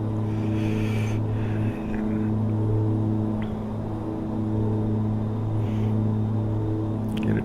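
In the X-Plane 11 flight simulator, an Outback EV-55 twin-engine airplane climbs after takeoff, giving a steady, droning propeller and engine hum that holds constant and fairly loud throughout, with a few faint clicks.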